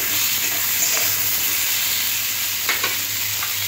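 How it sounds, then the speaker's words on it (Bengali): Chopped onion and drumsticks frying in a pan for a katla fish curry, a steady sizzle and hiss with a few light stirring scrapes, no talking. "পেঁয়াজটা দিয়েও পেঁয়াজটা ওইরকম সবজির সাথে ভাজতে হবে।"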